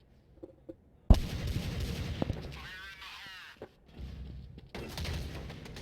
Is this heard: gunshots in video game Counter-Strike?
yes